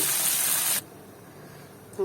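Loud, close hiss and sizzle of fish frying in hot oil in a home kitchen. The sound is strong for under a second, then drops to a softer steady crackle.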